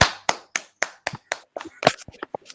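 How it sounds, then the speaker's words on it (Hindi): Participants in a Patanjali daily yoga class clap in thanks: around ten crisp, close handclaps in a steady beat that turns quicker and more ragged as it tails off. "जोरदार तालियां हो जाए एक बार"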